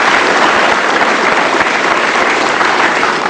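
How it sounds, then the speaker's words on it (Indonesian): Loud, sustained applause from a studio audience on a television talk show, honoring Indonesian cleric and poet KH Mustofa Bisri; thick, continuous clapping that holds at full strength throughout. "Sekali lagi tepuk tangan dong untuk Kiai Haji Mustafa Bisri."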